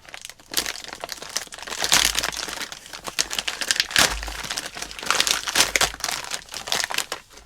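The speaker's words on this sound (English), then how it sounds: "there's a tear notch right here, and we're going to utilize it." Heavy plastic packaging of a U.S. Close Combat Assault Ration is torn open at its notch, giving close, loud crinkling and crackling with sharp ripping bursts, continuous and irregular, with no voices.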